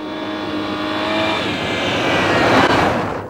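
A car on winter tires accelerates hard during a braking test, its engine rising steadily in pitch and loudness over a few seconds, close and prominent with no talk.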